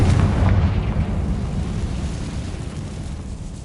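A Confringo fire spell explodes in the video game Hogwarts Legacy: a single loud, deep boom that rumbles heavily and then slowly fades over a few seconds, with no voices over it.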